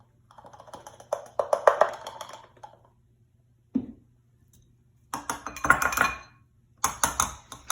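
Falafel mixture scraped and transferred into a bowl, with clinking utensil taps, scraping and knocks arriving in several short close bursts separated by silent gaps.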